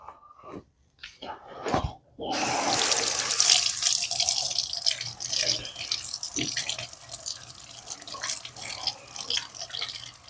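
Tap water gushes into a sink over diced tomatoes after a few clinks. The stream starts abruptly and runs steadily, fairly close, then settles into softer splashing.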